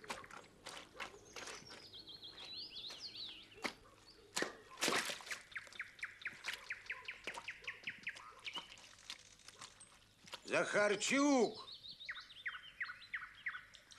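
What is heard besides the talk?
bird singing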